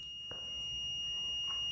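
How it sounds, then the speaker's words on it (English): A UPS alarm buzzer on an Arduino-modified unit sounds a steady high-pitched electronic tone that holds continuously while being unplugged from the wall, with a faint click early on and no talking. "now the buzzer is beeping, and when the buzzer is beeping, I'm unplugging"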